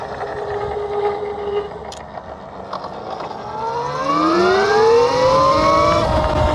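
Electric motorbike at full throttle on half battery, a loud, steady electric whine that rises in pitch as the bike accelerates, with a layer of road and wind noise underneath and no talking.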